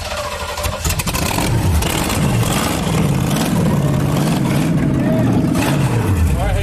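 A monster truck built from scrapheap parts cranks and fires up, its engine revving loudly and roughly with rising and falling pitch, while voices shout excitedly over the din.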